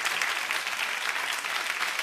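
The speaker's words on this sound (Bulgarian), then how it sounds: "Аплодисменти!" A studio audience at a Bulgarian TV talk show breaks into steady, moderately loud applause, dense and unbroken with no one speaking over it.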